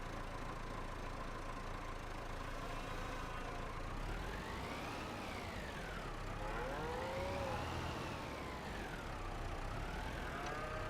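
Cattle in Farming Simulator 25 low in long rising and falling moos, two or three drawn-out calls over a steady engine drone from a tractor, fairly loud and continuous.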